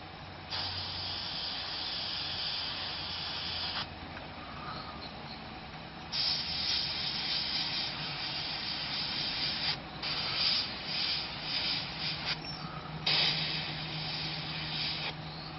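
SMS spray paint hisses from an airbrush-style sprayer in long continuous bursts laid down in fine layers, a steady close airy rush broken by short pauses and small changes in tone, with no voices.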